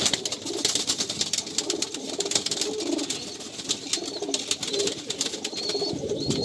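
Female pigeons at a home loft coo in soft, low, repeated calls against a steady rustling background, with a few faint higher chirps scattered throughout.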